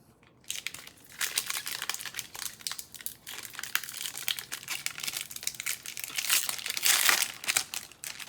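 Foil wrapper of a Magic: The Gathering Dominaria booster pack crinkling and crackling as it is pried open, a close, continuous busy rustle with louder bursts near the end, no talking.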